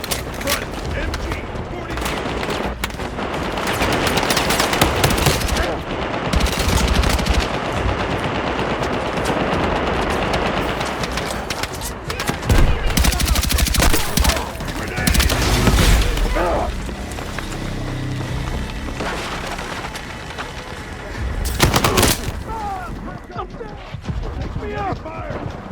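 Machine-gun fire rattles through a night raid in the Battlefield 6 video game, loud bursts layered with booms and other gunfire, under shouted voices and game dialogue.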